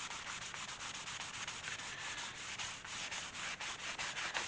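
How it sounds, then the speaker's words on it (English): A clean rag rubbed back and forth over a leather guitar strap to work in dye, giving a steady close scrubbing hiss with quick regular strokes and no pauses. "I'm going to take a clean rag and I'm just going to rub that in"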